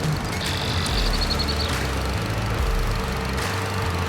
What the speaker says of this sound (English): They used what I think is a legit lawnmower sound.